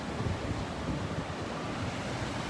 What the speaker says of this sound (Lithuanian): Jūra audringa, matosi.